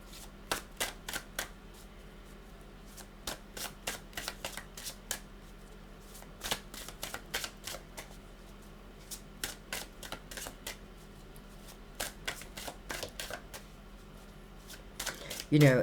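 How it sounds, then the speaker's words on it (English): Tarot cards drawn from a deck and laid out in a spread, giving repeated crisp card snaps and flicks at an irregular pace, fairly close and light over quiet room tone. "I want to take 4 more cards right below and put the Empress in the middle of the spread."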